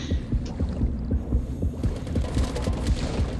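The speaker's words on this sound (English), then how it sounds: "Like when you start to hear that stupid little heartbeat, it's terrifying." Repeated low thumping heartbeat pulses in the horror video game Depth, steady and throbbing under a mechanical hum, with no talk.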